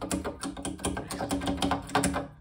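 Rapid clattering thunks from the worn, unrefurbished keybed of a Sequential Circuits Pro-One synthesizer with stuck, uneven keys, played close in a quick irregular run of mechanical key clicks.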